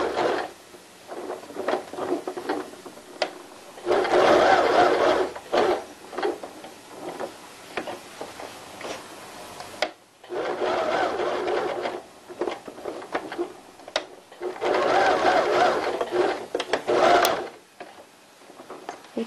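A sewing machine sews a label onto handmade underwear with a fine 0.1 mm seam, in several medium-loud mechanical runs with clicks and short stops between them, close and alone.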